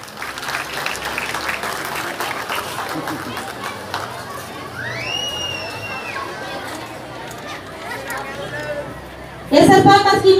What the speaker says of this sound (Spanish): estos actores y estos cantantes ocupan ese aplauso cálido y bonito